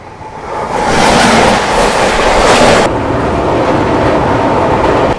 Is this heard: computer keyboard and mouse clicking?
no